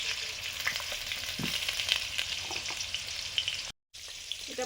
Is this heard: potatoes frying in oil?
yes